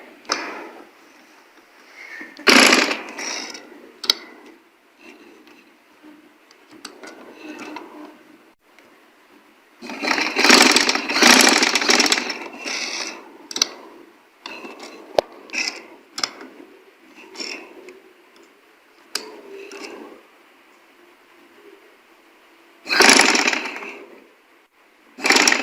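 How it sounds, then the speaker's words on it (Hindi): A sewing machine runs stitches along marked lines on suit sleeve fabric, working in short irregular bursts with a few longer runs between pauses, fairly close and clear. "अब इन लाइन के ऊपर हमने सिलाई मशीन की मदद से सिलाई लगा लेनी है।"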